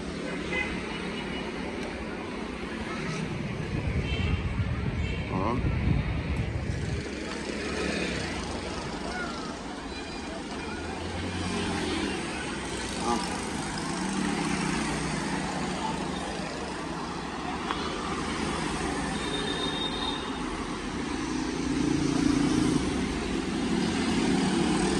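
A 2019 Kawasaki Z800 motorcycle engine runs loudly and steadily, a dense continuous roar with a brief deeper surge partway through.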